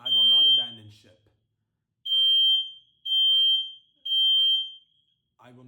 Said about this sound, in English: I was not notified about a fire alarm going off.